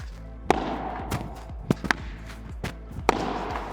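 Padel balls are struck during a forehand drill on a court, with sharp hits and bounces popping out at irregular intervals, close and punchy over a low background rumble.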